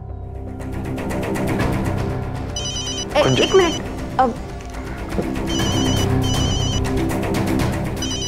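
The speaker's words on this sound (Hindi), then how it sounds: "बीजी का फोन है।" A telephone rings in short repeated bursts in a domestic scene of a Hindi drama, heard over background music with people talking nearby.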